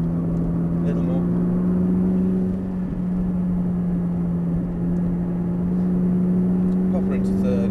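A McLaren 570S on the Thruxton race track gives a loud, steady engine drone throughout, holding an even tone under throttle, with a faint voice in the background.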